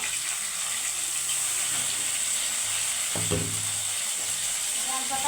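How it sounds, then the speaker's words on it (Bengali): Onion paste and peanut paste fry in a pan for a bhola fish tel jhal, making a steady close sizzle with a brief stirring scrape partway through. "বাটা পেঁয়াজ আর বাদামটা আমি হালকা একটু অল্প লেড়ে দিচ্ছি"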